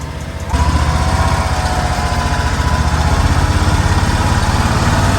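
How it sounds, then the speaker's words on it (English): A John Deere utility vehicle engine starts revving at about half a second, then runs steadily with a loud, rough mechanical drone and low rumble, outdoors. "Sturgis has let me borrow this John Deere. All right, hop on in and let's go"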